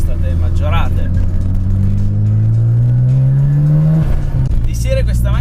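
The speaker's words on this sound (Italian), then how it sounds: "Come potete vedere, soprattutto sentire, questa macchina non è molto originale, infatti le due turbine sono state maggiorate." A modified Mazda RX-7 with an enlarged twin-turbo rotary engine revs hard and loud up close, the pitch climbing steadily before dropping off, while someone talks over it.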